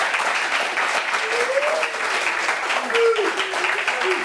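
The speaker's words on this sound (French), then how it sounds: "Applaudissements pour vous-même, s'il vous plaît." A live audience applauds itself at the close of a French discussion session, a steady wash of clapping that holds throughout while voices carry over it.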